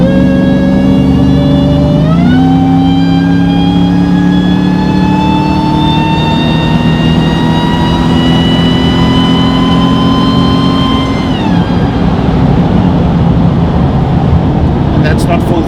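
A RAM 1500 pickup with a supercharged Hellcat engine accelerates hard, its loud deep roar climbing in pitch, shifting, then climbing again before easing off, heard close from inside the cab.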